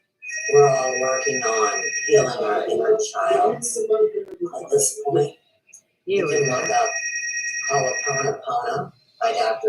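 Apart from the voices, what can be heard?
telephone ringing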